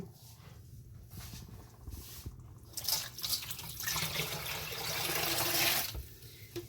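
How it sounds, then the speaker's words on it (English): Tap water runs into a kitchen sink to cover a frozen turkey for Thanksgiving, starting as a faint trickle and swelling into a loud, steady gushing splash for several seconds before easing off. "I'm just going to add the tap water right here."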